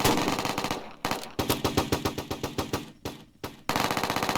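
Rapid automatic gunfire in a Roblox game, loud bursts of evenly spaced shots broken by short pauses, with no talk over it.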